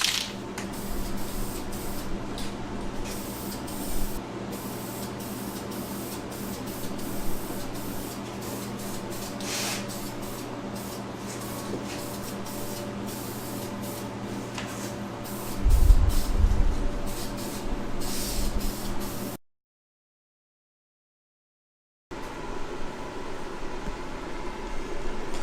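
A steady hiss of primer from an aerosol spray can runs for long stretches, close up, broken by a brief silence before the hissing resumes.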